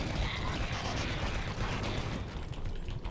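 Weapon handling in the first-person shooter Doom 3 BFG Edition: a dense, continuous run of metallic mechanical clatter and ratcheting, loud and steady throughout with no voices.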